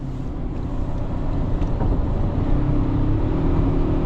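Steady engine drone and road and wind rumble from inside a 2024 Toyota Tacoma TRD Off-Road as its Turbo 4 with 8-speed automatic accelerates, loud and continuous with a slight rise, no talking.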